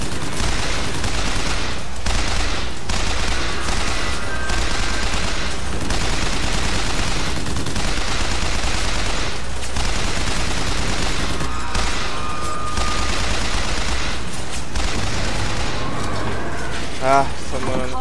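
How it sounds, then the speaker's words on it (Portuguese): Machine gun fire in BioShock Infinite comes as dense, near-continuous bursts of shots layered with explosions and game effects, loud throughout, with someone talking over the action. "Vou mudar aqui pra metralhadora."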